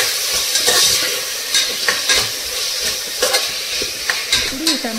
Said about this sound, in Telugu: దీంట్లోకి కట్ చేసి పెట్టుకున్న టమాటా ముక్కల్ని వేసుకోవాలండి. ఇది మంచిగా కలుపుకోవాలి.